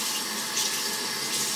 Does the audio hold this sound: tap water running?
yes